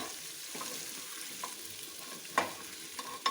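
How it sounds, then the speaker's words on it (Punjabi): Potatoes with amchur powder and red chilli sizzle steadily in a hot pan while being stirred, with occasional sharp clinks and scrapes of the spoon against the pan, close by and with no talking. "ਆਲੂਆਂ ਨੂੰ ਮਿਕਸ ਕਰ ਲਾਂਗੇ ਚੰਗੀ ਤਰ੍ਹਾਂ"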